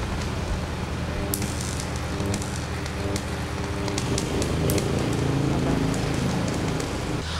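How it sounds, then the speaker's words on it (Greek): A central power-company electricity transformer burns in the town centre of Zakynthos, Greece, giving a steady crackling, hissing roar with sharp pops and snaps, recorded close by outdoors and continuous throughout. "έχει πιάσει η φωτιά ο κεντρικός μετασχηματιστής της ΔΕΗ εδώ στη Ζάκυνθο στα δικαστήρια"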